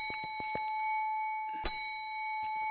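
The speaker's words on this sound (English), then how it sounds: "let me make sure you ring the bell for good luck" A bell in the Phasmophobia horror game rings out with bright metallic dings, a few quick strikes early, then one sharp louder clang with a lingering tone that fades.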